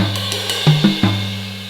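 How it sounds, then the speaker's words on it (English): A drum kit's snare and rack tom struck in a short pattern: three quick hits whose ringing tom tone bends downward, over a sustained tonal hum with no voices. "if you want to bring the left hand to the snare, the right hand to the rack tom."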